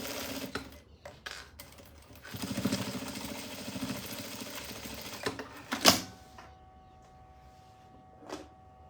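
A sewing machine stitches a patchwork pouch in short runs of rapid mechanical whirring broken by pauses, then gives a sharp clack and a final brief burst.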